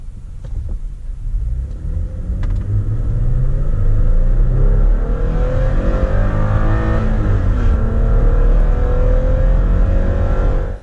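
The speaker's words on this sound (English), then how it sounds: "show you that clip of me going as fast as I can in first gear" A tuned Toyota Tacoma pickup's engine roars hard and climbs in pitch, accelerating in first gear past the redline, a loud continuous rumble that rises steadily before cutting off abruptly.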